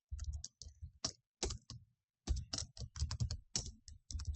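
Quick clattering keystrokes on a computer keyboard, in irregular bursts of taps with a brief pause in the middle, close and fairly quiet, with no talking.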